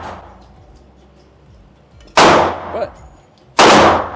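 Two loud, sharp pistol shots ring out about a second and a half apart at an indoor shooting range, each with a short echoing tail, after a quiet stretch with faint background noise and a brief spoken word.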